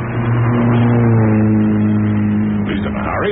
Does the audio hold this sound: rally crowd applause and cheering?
no